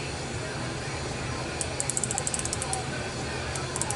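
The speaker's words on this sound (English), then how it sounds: "using the ratcheting end to tighten it up" A micrometer being tightened by its ratcheting thimble end gives a quick run of small, crisp ratchet clicks in the middle of the clip, heard close up over a steady background hiss.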